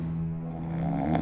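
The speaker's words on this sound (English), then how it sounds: "The most common symptom of sleep apnea is loud snoring." Loud, steady snoring of the kind caused by sleep apnea, a low droning rasp held throughout without a break, close and alone with no talking.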